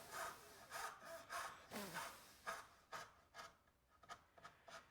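A pistol grip hand saw cuts through a piece of wood in a bed desk build, with a steady series of rasping push and pull strokes, quiet and close, a little faster and lighter toward the end.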